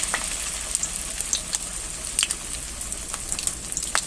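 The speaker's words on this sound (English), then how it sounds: "I'm going to dip the tofu into the eggs, like so. Put it into the pan" Egg-dipped tofu fries in a hot pan with a steady, moderate sizzle and scattered sharp pops and spits throughout, close by with no voices.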